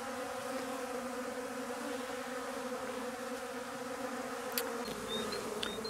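Honey bees drone in a constant, layered buzz close by, a steady humming swarm with a few brief higher clicks near the end.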